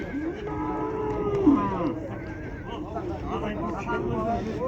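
Bulls at a busy livestock market in Kyzylorda low repeatedly in long, drawn-out moos, overlapping one another amid a constant hum of crowd chatter.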